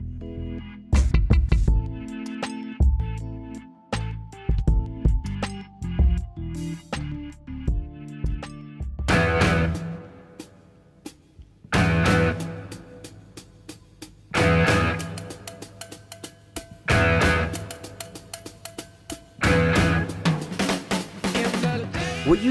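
The intro of a song from a band's debut album plays as a full rock band recording, with the drums hitting in punchy, syncopated bursts alongside guitar and bass, loud and without any talking.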